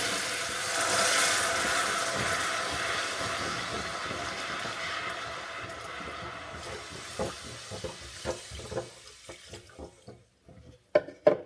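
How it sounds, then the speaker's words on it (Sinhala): Water is poured into a very hot pot in which sugar has been heated. A loud, rushing pour and hiss builds and then fades, followed by scattered bubbling pops and clinks near the end. "හරි පරිස්සමින් වතුර දාගන්න ඕනේ"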